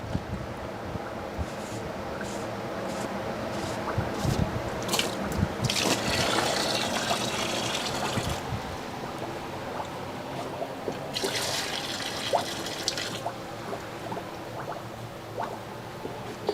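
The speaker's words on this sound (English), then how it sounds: "I'm just adding some more rainwater into this container" Rainwater being poured into a hydroponic nutrient container, a continuous splashing trickle with louder gushing bursts and intermittent knocks, close by with no talk.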